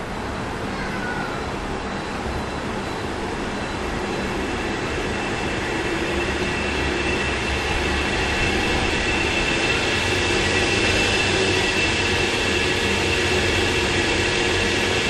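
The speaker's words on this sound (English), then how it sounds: "I'll increase the motor speed now." Geared motor on a motor driver with a capacitive touch console panel, speeding up toward its maximum of about 33 rpm: a continuous broadband whirring rumble that grows slowly louder over the whole stretch.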